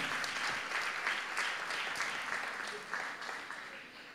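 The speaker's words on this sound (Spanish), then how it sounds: "fuerte el aplauso para este equipo también" At a photo-reading contest award ceremony, the audience gives a finalist team strong applause: dense clapping with distinct individual claps popping through, loudest at the start and easing slightly toward the end, and a faint voice or two mixed in.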